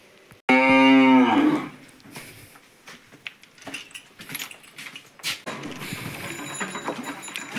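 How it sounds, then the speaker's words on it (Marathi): Cattle on a farm moo as they set off to graze, one loud close drawn-out moo at the start, followed by scattered hoof clatter, shuffling and farmyard movement with faint low voices in the background. "आता गुरं चाललेत चरायला."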